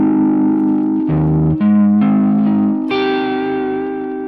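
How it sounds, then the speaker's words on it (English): Guitar chords played through a Hologram Chroma Console pedal set to a vinyl lo-fi effect, several sustained, warped chords changing every second or so, the last ringing out and slowly fading. "And you can hear the record scratches,"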